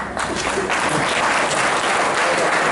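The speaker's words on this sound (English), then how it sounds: "would you please keep the applause going" Hall audience at a hall-of-fame induction ceremony breaking into loud, sustained applause, a thick continuous clatter of many hands.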